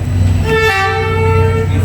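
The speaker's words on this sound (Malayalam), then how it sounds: "ഇന്നിതാ ട്രെയിൻ വരുന്നുണ്ട്" A train horn blows one long, loud, sustained blast over a deep rumbling engine, close by, as the train passes through Hanoi's narrow Train Street.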